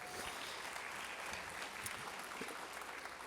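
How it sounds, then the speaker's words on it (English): Faint, steady applause from an audience at the 2024 SVHS CTE Completers Ceremony, a dense wash of many hands clapping at a distance with no speech over it. "let's give him a round of applause"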